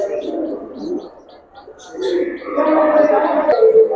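Caged Giribaz pigeons on a farm coo repeatedly at close range, low throaty rolls overlapping with brief higher chirps, building louder toward the end over a faint murmur of voices.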